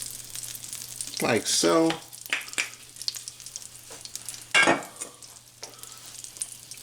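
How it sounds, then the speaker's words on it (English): Butter and a little olive oil sizzle in a hot frying pan as food is stirred and scraped, with bursts of crackling louder hissing under a brief spoken remark. "now we put the pan on. I'm going to add a little more butter. And just a little bit of olive oil."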